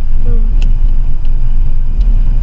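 A car engine accelerates during a driving lesson, a steady low rumble with road noise, heard from inside the car under an instructor's voice.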